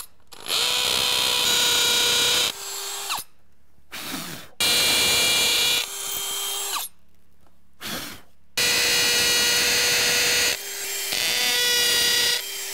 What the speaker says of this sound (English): now I can continue drilling these holes.